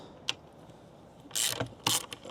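Screws being backed out of the interior roof of a Ford Bronco give a few sharp clicks followed by two short, loud bursts of ratcheting driver noise, close up and with no talking.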